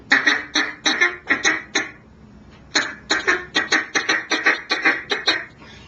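A hand-blown duck call imitates a single feeding duck, loud and close, with rapid rhythmic quacks in two runs split by a short pause.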